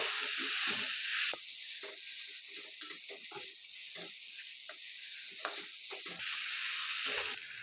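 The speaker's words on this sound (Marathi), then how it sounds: "आता पोहे चांगले मिक्स करून घ्यायचे" Poha stirred in a hot pan with turmeric and a little coriander, giving a steady close sizzle broken by repeated soft scraping strokes of the spoon, with no talking.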